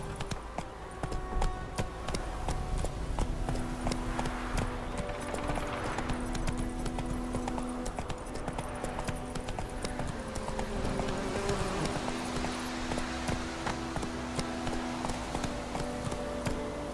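The horse Roach gallops in The Witcher 3, a steady fast clip-clop of hooves running on without a break under game music, fairly quiet throughout.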